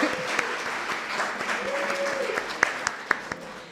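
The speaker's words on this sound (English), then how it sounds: "Can I get another round of applause?" Audience at a postdoctoral awards and recognition ceremony applauding in a steady wash of clapping, with a faint voice briefly audible beneath it and a few sharp, isolated claps or whoops standing out as it tapers off.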